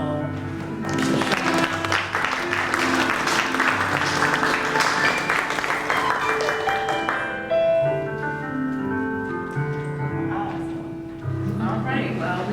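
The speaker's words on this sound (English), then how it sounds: "Also give the families an applause." Applause at a humanitarian awards gala for honorees and their families, dense clapping sustained across the whole stretch with music playing underneath and voices mixed in.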